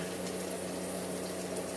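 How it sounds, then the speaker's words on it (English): Carrots and other chopped vegetables sizzle in a hot pan, a faint, steady hiss and crackle held close with no talking over it. "Now we're sizzling."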